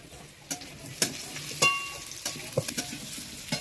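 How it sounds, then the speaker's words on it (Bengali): Potatoes with onion and garlic frying in a pan for a mutton kosha, giving a steady sizzle broken by a few sharp stirring scrapes and clinks close by. "এই আলুটাও এখন আমি একটু ফ্রাই করে নেব এই পেঁয়াজ রসুনের সঙ্গে।"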